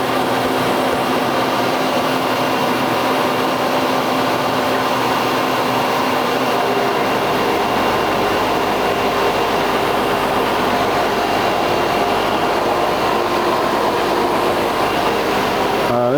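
A metal machine tool feeding a cut at 487 RPM and 7.5 inches per minute while making a rod bender, a loud continuous grinding drone with a steady mechanical hum throughout.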